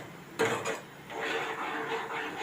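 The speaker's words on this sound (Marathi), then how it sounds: "मिडियम गॅसवर सतत ढवळत राहायचं आहे जोपर्यंत हे सुकत नाही तोपर्यंत" A spoon stirs a coconut laddu mixture with saffron milk in a pan over medium heat, making a close, steady scraping sound after one sharp clink at the start.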